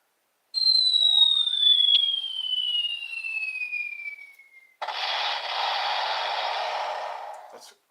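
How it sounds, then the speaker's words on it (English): A comedic kaboom effect from a sound button: a descending whistle-like sweep with a rising squeal, then a broad rushing blast that holds for about three seconds before cutting off, loud and alone. "I have a kaboom button."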